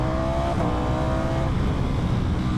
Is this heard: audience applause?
no